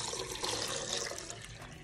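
About half a liter of water pours steadily into a blender jar with lemons for a homemade cleaner, making a continuous, fairly quiet gush and splash with no voices.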